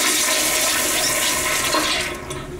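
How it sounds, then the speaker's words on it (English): A toilet in a Petco store bathroom flushes with a loud, close rush of water that holds steady for about two seconds, then eases slightly as the bowl refills. "That's a good flush."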